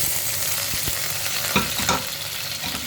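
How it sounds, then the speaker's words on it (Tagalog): Carrots fry in a pan for pasta with a dense, continuous sizzle, broken by a few soft stirring knocks, close and steady. "Nilalagay ko yung carrots. Ipa-fry rin natin yun."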